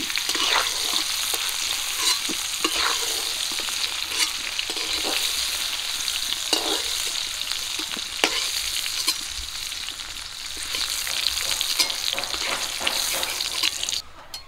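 Jackfruit pieces frying in a pan of hot oil, a steady dense sizzle running throughout with occasional stirring scrapes, close and fairly loud, no voices.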